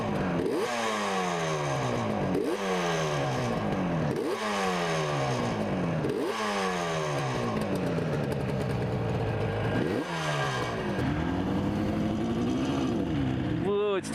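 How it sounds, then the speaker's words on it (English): A 1972 Yamaha RD 350 two-stroke motorcycle is ridden hard, its engine climbing in pitch through several gears in repeated rising sweeps, loud and close throughout, with a long rev near the end. "I do love the torque of a two-stroke engine"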